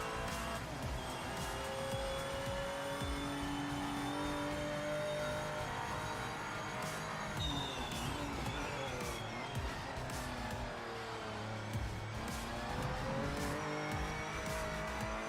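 Race car in the Project Motor Racing video game, a continuous engine drone with tire squeal and skidding as it corners, rising and falling pitch over a busy, dense game mix, fairly quiet overall.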